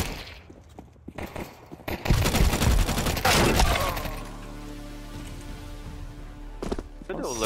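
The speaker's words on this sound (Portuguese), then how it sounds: "Tem um cara atirando." Rapid bursts of gunfire in the Counter-Strike video game ring out loud and close over about two seconds, then fade into game ambience with a few metallic effects, while players talk over the action.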